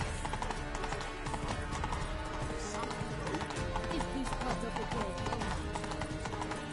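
Horse hooves clip-clopping at a steady gallop in the fantasy game The Witcher 3: Blood and Wine, set among dense game music, ambience and bustle, with a voice speaking over the hoofbeats at times.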